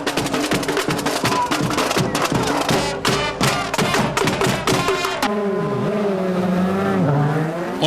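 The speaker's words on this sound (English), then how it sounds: "Oliver Jarvis is off to a good start and is able to maintain the lead" DTM touring race cars launching from the grid at Zandvoort in 2009, a dense roar of many engines revving and upshifting close by, then settling into a sustained blare as the field pulls away.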